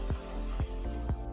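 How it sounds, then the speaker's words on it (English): Continuous broad hiss of brake cleaner sprayed from an aerosol can onto golf cart brakes, close and loud, with a few soft low thumps. "I'm just gonna spray off the brakes with some brake cleaner"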